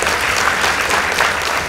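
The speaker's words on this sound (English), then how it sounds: "Let's give them a round of applause." A crowd claps for Strathmore School's debate team at a school debate competition, a continuous, loud wash of applause from the audience that holds steady from start to finish.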